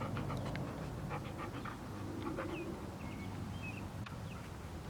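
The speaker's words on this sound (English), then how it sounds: "And here's my lovely doggie." Pet dog in a backyard garden panting in quick, steady rapid breaths close by, with faint bird chirps in the background.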